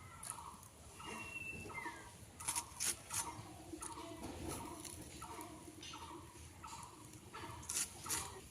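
Village chickens cluck and call in short repeated bursts, fairly close, with a few sharper squawks and a steady low background hum.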